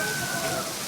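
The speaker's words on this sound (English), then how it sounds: "You did the rain dance and it started raining." Rain falling outdoors, a dense steady hiss of drops filling the whole moment with no pause.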